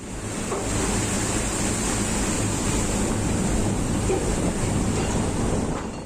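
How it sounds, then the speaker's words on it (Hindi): Huge stormy sea waves crash around a tugboat during a cyclone, a loud, continuous roar of surf and rushing wind with heavy rumble throughout and no let-up. "समंदर की लहरों के आगे बड़ा सा टगबोट कागज की नाव की तरह लग रहा है"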